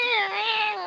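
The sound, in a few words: moorbounder hissing like an angry cat, game sound effect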